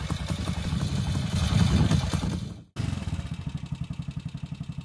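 A 1970s Ducati Scrambler 450 single-cylinder motorcycle engine runs loud and close, revving up before a brief cut, then settling into a steady pulsing throb on its own.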